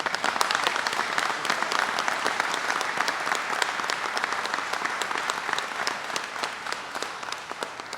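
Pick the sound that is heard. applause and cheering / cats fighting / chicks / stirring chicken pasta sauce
applause and cheering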